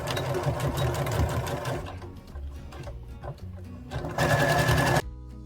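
A sewing machine runs in fast rattling bursts while back stitching near the fabric edge on a hoodie, pausing briefly midway before a louder final run and an abrupt stop.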